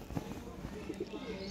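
Sialkoti Chuhe pigeons coo softly in a few low, rounded calls over steady background noise and faint murmuring voices.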